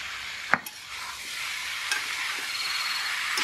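Vegetables fry in oil with turmeric powder and salt for a festival khichuri, a steady moderate sizzle with a sharp clink of a utensil early on and faint stirring scrapes.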